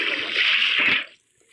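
Water splashes out of a bucket in the Minecraft video game, a single short gush of sloshing liquid lasting about a second before falling silent.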